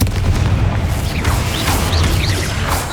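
The Confringo fire spell cast in Hogwarts Legacy, a loud booming blast with rumbling low end that rolls on for a few seconds, dense and close, no voices.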